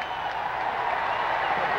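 A golf gallery at the U.S. Open applauds and cheers for Jack Nicklaus's victory, a broad continuous wash of clapping and crowd noise with speech faintly mixed in.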